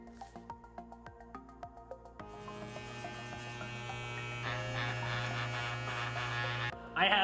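Electric hair clipper buzzing steadily during a home haircut, a continuous close hum that grows louder and denser after a few short starts, ending with a brief louder burst.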